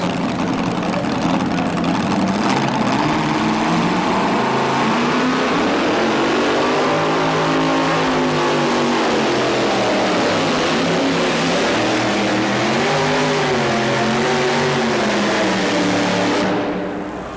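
A tractor or truck pull vehicle at a 1987 pulling event, its engine droning loud and steady down the track with rising and falling revs, the pitch sweeping up and down in waves before cutting off at the end.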